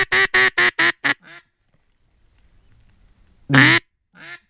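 A burst of five loud, evenly spaced duck quacks comes from close by, followed by quieter calls and a lull, then one more loud quack and a softer one during a duck hunt.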